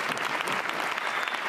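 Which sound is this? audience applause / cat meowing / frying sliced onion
audience applause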